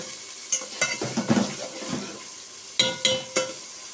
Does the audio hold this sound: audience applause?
no